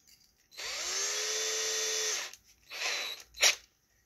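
A cordless power drill spins up near the mic for about a second and a half, steady whine with a falling pitch, then two shorter bursts follow, used to twist wire and twine into evergreen trees.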